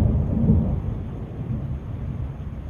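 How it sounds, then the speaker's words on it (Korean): Low, rolling thunder rumbling steadily indoors, with broad low-end energy that swells early and then stays as a continuous distant roar, no voices. "또 천둥이 쳤네요"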